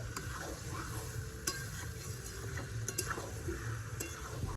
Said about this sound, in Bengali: তেলটা খুব ভালো মতো গরম হয়ে গেছে এবার মাংসটা দিয়ে দিব দেওয়ার পরে খুব ভালো করে নেড়ে নিব